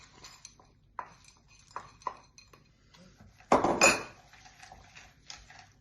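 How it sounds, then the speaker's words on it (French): A spoon scrapes and clinks against a pan as green onions and peas are stirred, several light taps followed by one louder scraping clatter, close and with no talking. "Je mélange bien."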